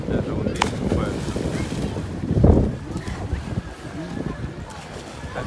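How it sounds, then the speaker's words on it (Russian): A light sea breeze off the Black Sea at Sochi on a hot July day buffets the microphone with low, gusty rumbling, swelling briefly midway, while a person talks over it. "С моря дует легкий ветерок."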